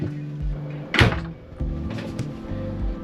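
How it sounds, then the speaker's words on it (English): A newly screwed latch on an Airstream door swings shut with one firm thunk near the middle, set against a low steady hum with faint clicks before and after. "Let's see how the latch works, or does it work?"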